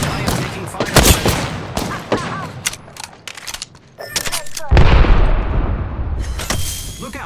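Video game gunfire in a combat match: rapid bursts and single shots crack loudly and close, with automatic fusillades and heavier booms, interleaved with voices calling out in the game.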